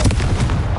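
Confringo blast spell going off in the Hogwarts Legacy video game, a loud, dense burst with a booming low end and crackling tail lasting under a second.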